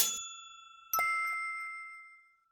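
A restaurant table call bell rings twice, a bright metallic ding with a long ringing decay, the first cut short and the second left to fade out over quiet.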